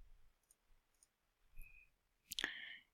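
A computer mouse clicks while a Microsoft Excel chart is formatted during an ArcGIS Pro tutorial, giving a few faint, sparse ticks followed by one sharper, louder click near the end, with no talking.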